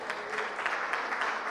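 Steady applause from an audience at a forum honouring an engineer, a dense continuous clapping that holds at even loudness through the whole short moment, with no voices on top.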